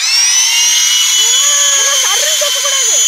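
Large RC helicopter flying outdoors, a loud steady whine of high rotor and motor tones running throughout, with brief shifting pitch sweeps midway as it manoeuvres.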